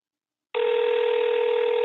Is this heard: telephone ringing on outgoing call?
yes